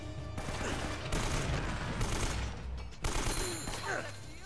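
Rapid AK rifle fire in the video game Uncharted: Drake's Fortune Remastered, dense crackling bursts of automatic gunfire mixed with game effects, loud and continuous with a brief break near the middle.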